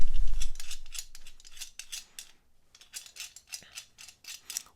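FACOM 501A 250 mm quick-release long nose locking pliers being adjusted, giving a rapid series of sharp metallic clicks and ratcheting snaps in bursts with short pauses, close and fairly loud, with no talk.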